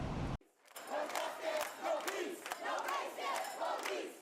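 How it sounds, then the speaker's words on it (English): A protest crowd of hundreds gathered at night in front of a justice building, chanting together in loud rhythmic bursts that come across as a distant, echoing mass of voices. "A crowd of hundreds of people gathered in front of the Metro Justice Building Tuesday night, chanting at times to convey a message"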